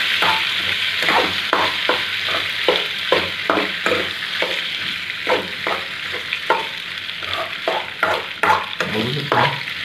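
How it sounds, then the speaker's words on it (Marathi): Pasta stirred into sizzling masala in a frying pan, a steady bright sizzle punctuated by a regular series of scraping stirring strokes, close and continuous with no talk. "त्यामध्ये पास्ता टाकून घेऊ आपण. छानपैकी आता मिक्स करून घेऊ आपण."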